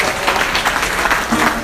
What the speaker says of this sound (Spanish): Cuando menciono un nombre le damos un aplauso.